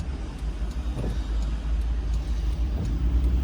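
Steady road traffic rolls past on the driver's left, a continuous low rumble of cars with occasional louder vehicles swelling by close at hand, no voices over it.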